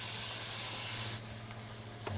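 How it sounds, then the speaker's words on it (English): Onion and carrot fry in duck fat in a pan, giving a steady, close sizzle and crackle with occasional spits, and no voices. "let it bubble away in a frying pan, and then gently fry the onion and the carrot in it"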